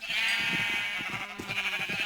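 A sheep bleats repeatedly in the Minecraft video game, with quavering, steady calls that sit close and loud throughout and no talking.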